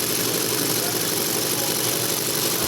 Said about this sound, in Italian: Allora abbiamo messo in moto anche questo Caterpillar, leggo del 1917 questo modello.